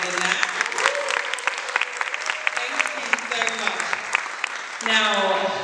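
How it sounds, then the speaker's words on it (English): A round of applause for the panelists at a book launch, dense clapping from the crowd that keeps up throughout, with voices and cheers rising in the last second. "let's just give them another round of applause"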